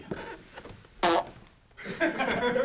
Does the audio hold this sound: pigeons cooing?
no